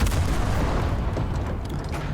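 Anti-tank gun fire and weak shell explosions on a Soviet battlefield in the game Enlisted, a steady loud low rumble of distant booms with no talk.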